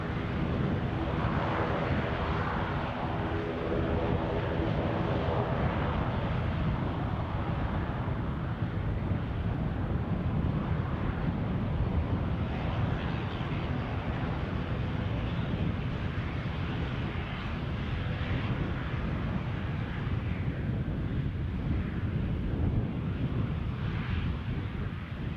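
An airliner taking off at Edinburgh Airport, a broad steady roar of jet engine noise with wind buffeting the microphone, holding loud and constant throughout with no talk.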